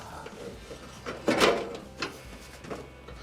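Sheet-metal bottom panel of an Amana stove scrapes and clunks as it slides into place, with one louder scraping thump in the middle and a few softer knocks, faint and close, without talk.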